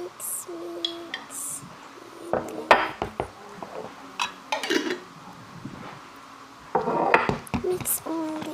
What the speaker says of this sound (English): Mix all the ingredients until you get the texture for the mashed potato